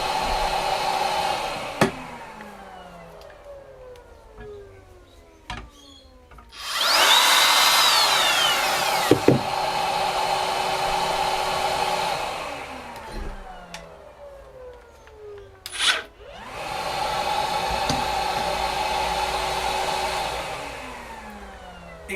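Makita 40V dust extractor vacuum hooked up to a miter saw: a steady whirring motor hum with two louder, roaring bursts as the saw spins up and cuts, punctuated by sharp clacks, all close with no talk.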